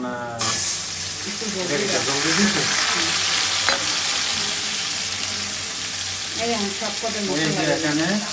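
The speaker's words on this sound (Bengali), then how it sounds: "এই তো বন্ধুরা আমাদের পেঁয়াজ একটু ভাজা হয়ে গেছে এখন" Onions frying in a pan of oil for a beef, potato and pumpkin curry, a steady broadband sizzle with occasional stirring scrapes, while a person talks over it for most of the clip.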